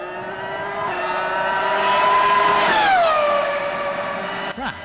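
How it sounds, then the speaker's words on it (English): A BMW P80 Formula 1 V10 engine screams at full speed, its high harmonic whine rising to a peak and then dropping sharply in pitch as it passes by close. "that V10 howled through the Italian hills"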